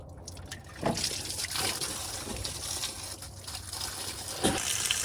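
Coolant drains and trickles out of the radiator of a 2002 Chevy Tahoe during a radiator flush, a steady close liquid pour with a few brief splashy bursts.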